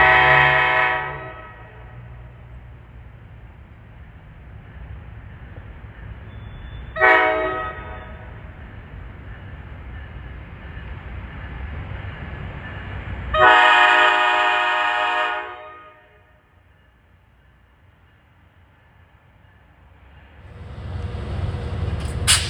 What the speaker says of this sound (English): Loud horn.